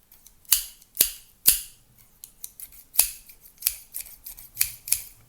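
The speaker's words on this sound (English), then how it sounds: "It's scissors. Listen. Scissors make a sound." Scissors snipping repeatedly, sharp crisp cuts in an irregular rhythm, several loud close snips early then lighter quicker ones, alone in a quiet room.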